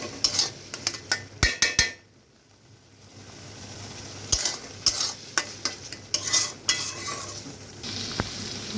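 Goat brain bhuna being stirred and fried in a pan, with repeated scraping strokes of a spoon against metal over a soft sizzle that falls quiet briefly, then resumes with more stirring.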